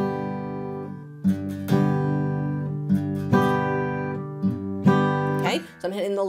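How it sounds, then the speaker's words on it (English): Acoustic guitar playing a pattern in which each down strum catches the low bass strings and each up strum rings the higher treble strings, giving an alternating low-high rhythm of close, full chords with no talking. "Then I'm catching the treble notes on the second strum."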